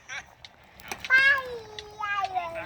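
A cat gives two drawn-out, wavering meows at night while being chased toward a forest, close and fairly loud, with faint background rustling between cries.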